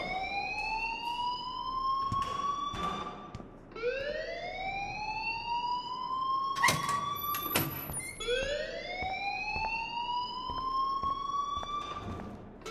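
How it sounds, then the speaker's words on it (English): A wailing alarm in the video game Life is Strange rises in repeated swooping sweeps, each climbing in pitch and then starting again, loud and continuous, with brief clicks and thumps between the cycles. "please turn off that alarm since that's your job"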